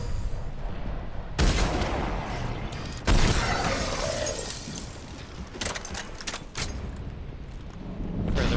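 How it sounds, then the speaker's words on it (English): Gunfire erupts in Mass Effect 3 during the Leviathan DLC, loud sharp shots cracking out amid a dense, chaotic firefight with rolling booms and debris. "panic shooting with a sniper rifle, not the best"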